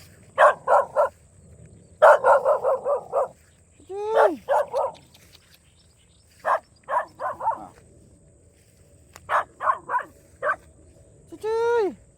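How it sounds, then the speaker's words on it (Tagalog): An angry dog barks in short, sharp bursts of several yaps at a time, with growling whines between, fairly close outdoors, while a person calls out over the barking. "Nagagalit yung aso."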